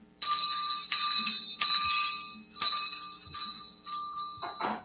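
A hand bell of the kind street collectors ring at Christmas, shaken in bright, loud bursts of metallic ringing, about six rhythmic clusters that fade slightly toward the end.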